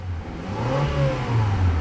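A 2004 Honda Civic LX engine revs steadily, its pitch rising and falling in smooth, continuous swells, close and fairly loud with no voices.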